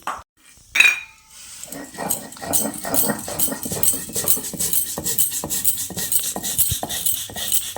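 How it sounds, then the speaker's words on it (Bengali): Poppy seed paste ground on a stone, with a steady rough rhythmic scraping and clacking at close range, joined by a few sharp clinks of metal and dishes. "মশলা পোস্ত আমি বেটে নিই"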